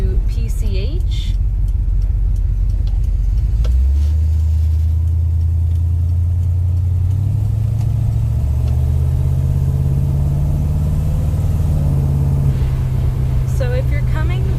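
A car turns onto Pacific Coast Highway near Mugu Rock, its engine a loud, steady rumble that climbs in pitch through several gear changes as it gets up to speed. No one talks over it.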